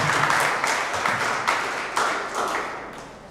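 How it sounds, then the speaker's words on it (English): Scattered audience clapping at a school quiz competition, a moderate, uneven patter of hands that slowly fades over a few seconds. "Please clap for me now when I get it."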